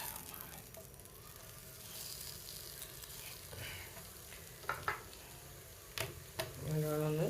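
Sliced plantain fries in hot oil in a pan with a steady, close sizzle, broken by a few clatters of stirring and turning toward the end, while a voice murmurs faintly underneath.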